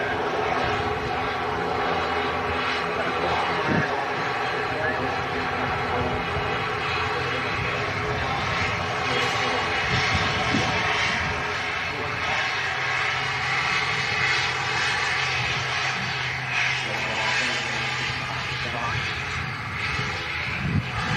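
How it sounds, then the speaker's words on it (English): An Aer Lingus ATR 72 turboprop airliner coming in to land from Belfast Harbour gives a steady, loud droning hum with a buzzing propeller tone throughout, and faint voices can be heard under it. "Aer Lingus ATR 72 coming in from Belfast Harbour. Very noisy. Turboprop airliner."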